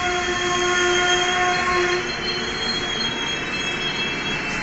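A train rolls along the rails with a loud, sustained metallic wheel squeal whose tones hold steady and then fade slightly as it slows, with no talk.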